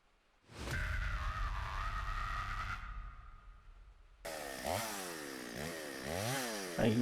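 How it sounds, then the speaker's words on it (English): A chainsaw roars steadily in an indie horror video game, cutting out briefly before a harsher revving, sweeping whine takes over, loud and close throughout. "I hear that chainsaw."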